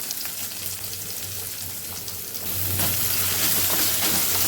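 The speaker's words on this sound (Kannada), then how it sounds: "ಇವಾಗ ಇದಕ್ಕೆ ಆನಿಯನ್ ಆ್ಯಡ್ ಮಾಡ್ತಾ ಇದ್ದೀನಿ." Chopped onion hits hot coconut oil already holding popping mustard seeds and ginger, and a steady sizzle swells louder and denser halfway through, close up with no talk.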